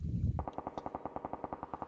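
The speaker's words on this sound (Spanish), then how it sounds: "Uy, disparos atrás" Rapid automatic gunfire, a steady burst of evenly spaced shots from somewhere behind, rattling loudly after an initial muffled rumble and echoing with no speech.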